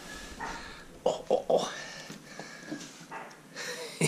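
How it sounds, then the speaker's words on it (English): A chihuahua puppy gives a few short, high yips and whimpers near the middle, close by, while someone speaks softly over and around them. "Cute little chihuahua pup."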